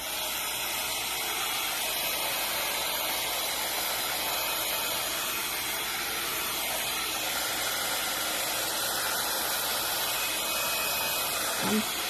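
A hair dryer blows over a watercolor and gouache painting, a steady, close, loud whooshing hiss that runs unbroken for the full length with no talking.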